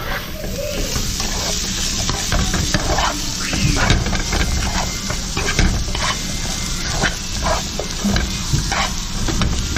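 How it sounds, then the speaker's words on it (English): Vegetables stirred in hot oil for an Asian-inspired soup, sizzling steadily and loud up close, with scraping stirs and irregular crackles throughout and no talking. "Go ahead and stir it around in the oil."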